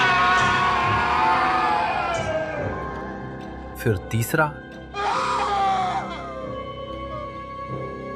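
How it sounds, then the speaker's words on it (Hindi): Hospital patients scream and groan in pain as a horror-story sound effect, with long wailing cries that fade and then return. A few short sharp bursts fall in between, and a brief Hindi narration line is spoken over them. "फिर दूसरा मरीज चीखता है"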